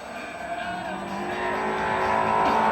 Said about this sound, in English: Toyota and Escort on track together.